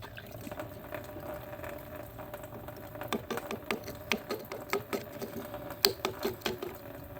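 Coolant drains from the radiator of a 2011–2022 Dodge Durango with the 3.6L Pentastar engine, a faint steady trickle and patter. Irregular light drips and taps grow more noticeable partway through.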